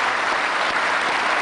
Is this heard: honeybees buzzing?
no